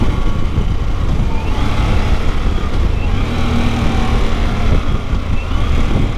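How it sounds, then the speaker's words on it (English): A Harley-Davidson Pan America 1250 Special motorcycle engine braking on a demo ride, a steady loud engine and road roar mixed with wind rush, close and continuous. "there's the engine braking."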